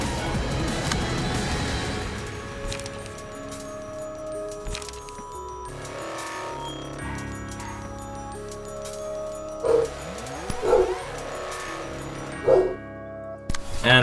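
Dogs barking in a Library of Ruina mod battle, short sharp barks and yips popping up toward the end over busy game music and effects.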